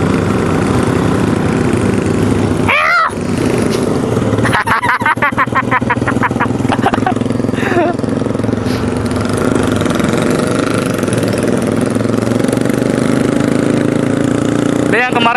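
A Yamaha Scorpio bobber motorcycle idles nearby at a night riding meetup, its engine running steadily throughout with a few revs and clatters in between, while people talk over it.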